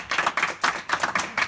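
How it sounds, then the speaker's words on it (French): Quick rhythmic clapping from a game show audience greeting a contestant, a brief burst of sharp, evenly spaced claps. "On applaudit bien fort."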